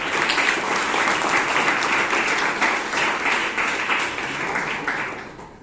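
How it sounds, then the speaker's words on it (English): Applause at a Toastmasters meeting in Bangalore, a close, steady round of clapping from a room of people that holds firm before tapering off at the end. "please give him a big round of applause"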